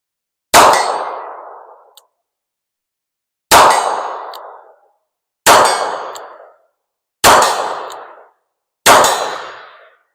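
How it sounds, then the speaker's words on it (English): Five loud pistol shots ring out one at a time, spaced about two seconds apart, each a sharp crack with a short decaying tail, with no talking between them. "So we'll fire off these 5 rounds, see what happens with it."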